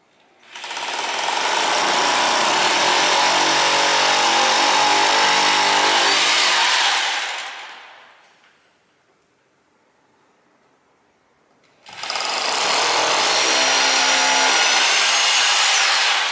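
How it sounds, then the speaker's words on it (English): Hammer drill boring anchor holes in a high voltage lab, two loud sustained bursts of rapid rough hammering with a short quiet gap between them, no talk. "So we'll drill those. Hey, there's a hammer drill right here."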